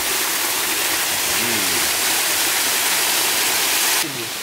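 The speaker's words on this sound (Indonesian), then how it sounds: "Ini kita mau ke spot air terjun yang di bawahnya ya" A two-tiered waterfall at Air Terjun Mangsang roars as a loud, constant rush of falling water, with a faint voice barely audible beneath it.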